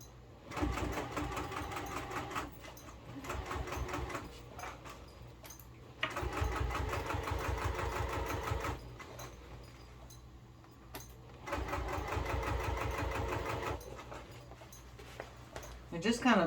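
Sewing machine stitching down the side of a stiff business bag, several sustained runs of fast, rhythmic stitching with brief stops between, close and moderately loud, with a voice talking over parts of it.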